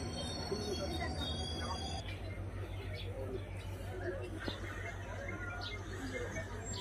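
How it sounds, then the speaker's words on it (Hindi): A train arrives at Murkong Selek railway station, heard as a steady low rumble of rolling wagons with faint wheel squeal, while people's voices and outdoor chatter sit over it throughout. "अभी ही ट्रेन आ रहे हैं वहां से, आप सबको दिखा दूं।"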